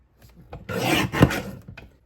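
Paper being cut for a card-making kit, a dry scraping rasp that builds over about a second and a half, close and fairly loud, with lighter scuffs before and after and no voices.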